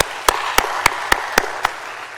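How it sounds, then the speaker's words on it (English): A brief round of audience applause at a formal Rotary literacy event, heard as about six loud, separate claps at a steady beat, each standing out sharply. "I think that deserves a big round of applause from all of us."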